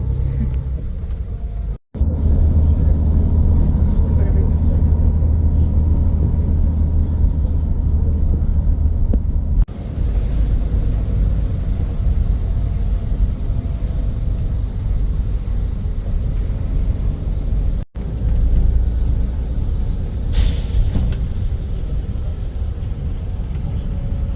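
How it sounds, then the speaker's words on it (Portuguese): Steady low rumble of a long-distance bus interior while travelling, a continuous engine and road drone filling the cabin, with two brief dropouts and no clear voices. "agora a gente já tá no ônibus pro próximo destino aí"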